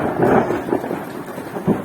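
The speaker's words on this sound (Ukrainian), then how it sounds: "Гримить добре." Rolling thunder rumbles through steady rain after the first rainfall in months in the Lviv region, a low continuous roar with a few swelling peaks and no talk.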